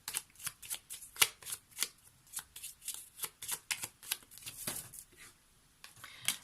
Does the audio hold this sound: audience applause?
no